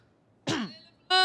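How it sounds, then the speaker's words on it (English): A commentator at a VCT EMEA Valorant broadcast clears the throat once in a short, close, rasping burst. A moment of quiet follows before the voice starts to sound. "Clear your throat."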